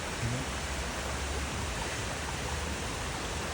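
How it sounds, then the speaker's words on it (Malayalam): A forest waterfall in Munnar gives a steady broadband rush of falling water, even and unbroken throughout, at moderate loudness with nothing else standing out. "ഒരു വെള്ളച്ചാട്ടത്തിൻ്റെ ഒരു സൗണ്ട് കേട്ടു"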